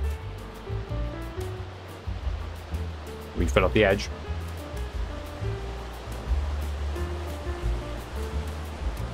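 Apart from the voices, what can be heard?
waterfall in the video game Ark: Survival Evolved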